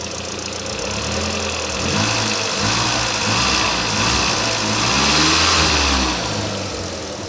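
A car engine, first started in over four years and warming up, runs steadily at close range with a loud broadband whir of cooling fans on top, the motor rising and falling slightly throughout.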